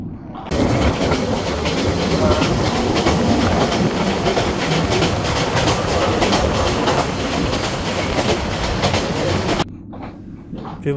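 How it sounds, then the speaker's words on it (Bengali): The Cox's Bazar Express running at speed, over 90, on the Chattogram to Dhaka line, a loud continuous roar of wheels and rattling carriages with rhythmic clatter, cutting off abruptly near the end. "90+ গতিতে ট্রেন ছুটে চলছে"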